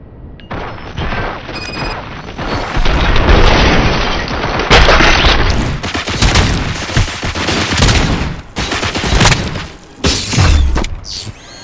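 Gunfire in the video game RoboCop: Rogue City, with loud, rapid bursts and booming impacts that come in repeated waves, crashing and smashing along with mechanical clatter throughout.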